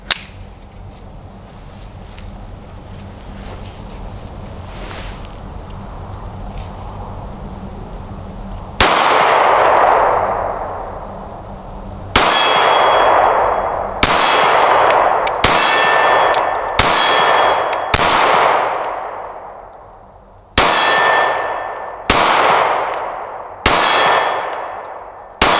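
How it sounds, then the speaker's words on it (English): A Stoeger STR-9MC 9mm micro-compact pistol fires 124 grain rounds from an 11 round magazine at steel targets, with nine loud sharp shots, each followed by a ringing metallic clang, spaced irregularly after a quiet start. "So we're just going to be shooting for right now the 124 grain"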